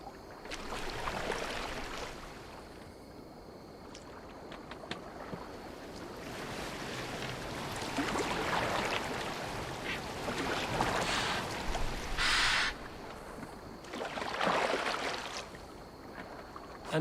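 Boat gliding over water in the video game Assassin's Creed Valhalla, with steady washing waves and wind across the whole stretch, no one talking.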